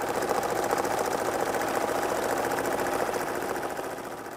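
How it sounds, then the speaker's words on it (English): A sewing machine used for freehand drawing on fabric stitches at high speed with a fast, even mechanical chatter that runs close and steady throughout, tapering slightly at the end. "I use a sewing machine to draw"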